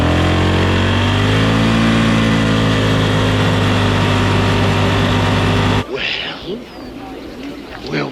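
A Polaris four-wheeler ATV engine drones loudly and steadily under held throttle, its pitch shifting slightly as it strains, then cuts off abruptly and leaves a quieter outdoor background.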